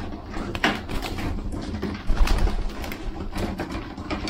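Pet pigeons coo repeatedly at close range, soft throaty calls with light rustling and shuffling around them.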